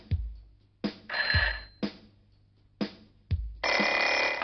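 A telephone bell rings in repeated loud bursts, each sharp onset followed by a buzzing trill, with short gaps between rings and a longer ring at the end.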